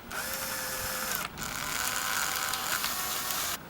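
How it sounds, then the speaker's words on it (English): A power drill with a 3/8 bit whines steadily at close range drilling a carbon-fibre windsurfing sail part, pausing briefly once before spinning up again, then cutting off near the end. "so I'm gonna try to drill it with a 3/8 bit."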